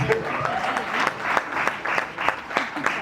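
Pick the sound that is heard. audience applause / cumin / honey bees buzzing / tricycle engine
audience applause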